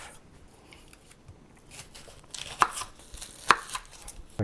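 Knife chopping onions on a board while beef soup is made, heard as sparse, faint cuts that grow louder and sharper toward the end, with two or three distinct strikes standing out.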